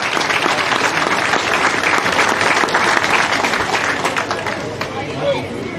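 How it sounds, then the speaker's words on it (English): Crowd at a junior club camogie championship final applauding steadily, a dense wash of many hands clapping with crowd chatter beneath, close and loud throughout. "A big round of applause for AIB."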